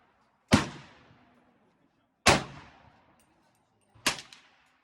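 Three sharp gunshots from an AR-15 pistol chambered in 300 Blackout, spaced about two seconds apart, each a loud close crack with a ringing outdoor decay; no talking.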